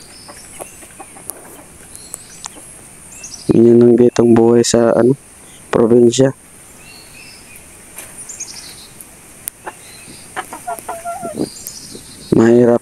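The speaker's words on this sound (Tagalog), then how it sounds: "Yan yung paborito niyang manok." Farm chickens cluck in short, scattered calls around a rural yard, with insects buzzing faintly behind and a person talking over them in several loud bursts.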